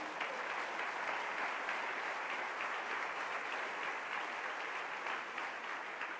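A congregation claps steadily in a church service honoring the King, a dense, continuous wash of applause from many hands with no voices rising above it.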